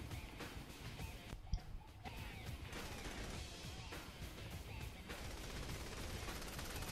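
Rapid gunfire and scattered impacts in Saints Row: The Third, a steady, dense clatter of shots running throughout with one sharp louder crack early on, fairly muffled and continuous with no voices.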